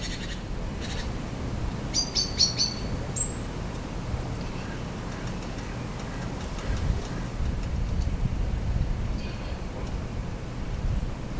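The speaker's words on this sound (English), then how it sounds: "A blackbird periodically shouts its ground predator alarm." Outdoors among garden birds, a blackbird gives its ground predator alarm call in short, sharp repeated chinks. The calls sound over low rumbling background noise, with a few other faint chirps scattered through.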